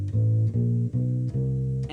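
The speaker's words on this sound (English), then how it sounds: "So walk-ups sound kind of like this." Bass walk-up on a U-Bass, a short-scale ukulele bass, in a 12-bar blues: four sustained, steadily rising low notes, each about half a second, played close and clear with no talking.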